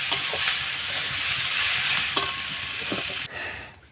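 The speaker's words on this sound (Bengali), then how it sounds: "দেখুন আমার প্রায় ভাজা হয়ে গেছে।" Vegetables for khichuri frying in a pan give off a steady hissing sizzle with occasional stirring clicks, the sound dropping away sharply near the end.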